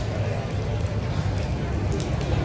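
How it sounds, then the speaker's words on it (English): Heavy rain pours down in a dense, steady hiss with a low rumble beneath, constant and close throughout. "it is pouring here."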